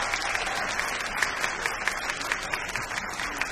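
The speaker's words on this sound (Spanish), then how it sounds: "Primero, aplausos para las cuerdas." A concert audience applauds to vote for the string section, a steady patter of many hands clapping at moderate volume, alone with no talk over it.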